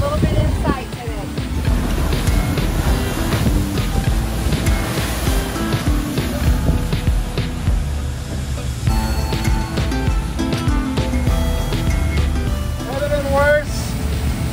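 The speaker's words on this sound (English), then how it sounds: "We are just beaten into these waves, and we are covered in salt." A motorboat runs hard through choppy ocean waves off the New Jersey coast, with a constant loud engine drone and rushing water and spray throughout, and people talking over it.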